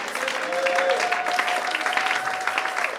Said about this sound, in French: Say amen 3 times and you clap your hand for the Lord.